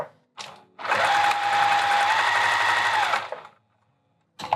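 A sewing machine runs through vinyl handbag material in one loud, sustained burst of about two and a half seconds, with brief clicks before it starts and a short start-up at the very end.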